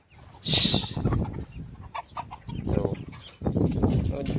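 Chickens cluck and squawk close by in a rural yard, with a sharp loud call near the start and then repeated clucks and fowl noises, and a person talks intermittently over them.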